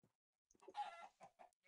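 Chickens in a Feed the Beast Minecraft modpack cluck in a quick burst of several short clucks, quiet and close with gaps between them.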